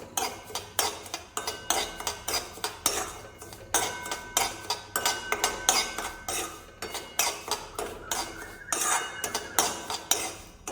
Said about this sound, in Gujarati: ઘીમાં આને શેકી લેવાનું. રવાને મીડિયમ ગેસ રાખવાનો